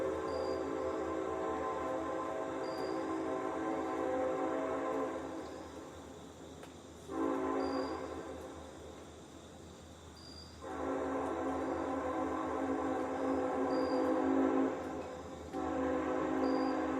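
A train horn blows in long sustained blasts with short gaps between them as a train passes on the rails. A steady low rumble of rolling cars continues underneath, and no one speaks.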